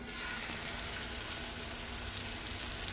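Pork chops laid in a hot pan hiss with a steady, dense sizzle, close and fairly loud, continuing evenly without pauses or talk.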